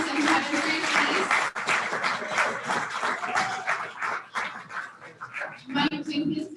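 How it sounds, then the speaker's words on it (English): A luncheon audience applauds at a chamber of commerce membership lunch, a sustained wave of clapping that rises and dips over several seconds, with a dog barking and yipping among the noise. "I want to give a big round of applause to our two very special pirate visitors"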